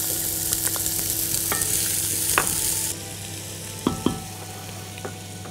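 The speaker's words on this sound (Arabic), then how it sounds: "هنحط البصل مع الزيت،" Onion frying in oil in a pan for rice with spiced chickpeas, giving a steady, close sizzle with a few sharp stirring clicks and scrapes.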